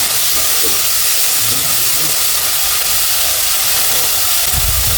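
Spices and garlic paste fry over medium heat in a pan for a prawn and ridge gourd curry, making a loud, unbroken hiss of sizzling close up.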